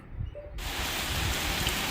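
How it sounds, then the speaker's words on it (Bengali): After a brief quiet moment, heavy rain suddenly roars in, a loud steady downpour that continues to the end. "বৃষ্টি পড়ছে, খুব জোরে বৃষ্টি পড়ছে"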